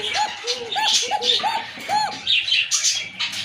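A Bashiraj pigeon coos in repeated short, bubbling calls, close and clear, with a few sharper chirps mixed in.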